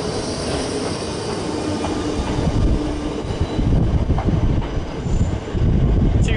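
British Rail Class 455 and 456 electric trains move through London Waterloo, giving a loud, continuous rumble of wheels on rails with brief squeals and clanks from the coaches close by.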